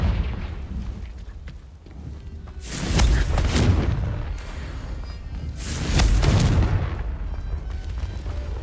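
Confringo blasting spells exploding in the video game Hogwarts Legacy, two big booming bursts with crackling tails about three seconds apart over a rumbling background, loud and close with no speech.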